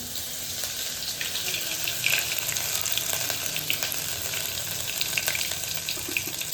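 Mustard seeds, cumin and ginger-garlic paste sizzle in hot oil for a pea and potato curry, a close, continuous crackling fry with small pops scattered through and no talking.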